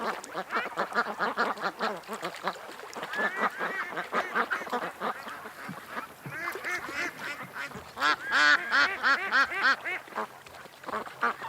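Ducks feeding on weeds keep up a dense, continuous chorus of quacks and honking calls, loud and close, with a burst of stronger calling near the end and no talk.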